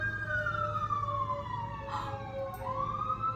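A fire truck siren wails from a distance, its pitch sweeping down and rising again, with a brief horn-like blare partway through over low traffic rumble.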